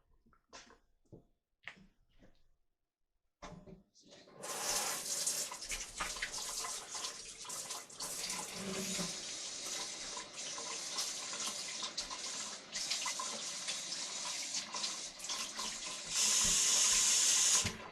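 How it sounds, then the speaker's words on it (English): A kitchen tap runs steadily while hands are washed, loud continuous splashing and gushing after a few faint clicks and handling sounds, growing louder near the end. "wash my hands again, even though I'm only going to touch it with one hand"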